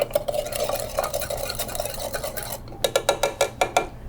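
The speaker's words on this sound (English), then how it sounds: "Then I'm gonna stir with ice." Ice clinking and swirling as a whiskey cocktail with sugar and Peychaud bitters is stirred, a steady rattling that turns into a series of sharp, distinct clinks toward the end.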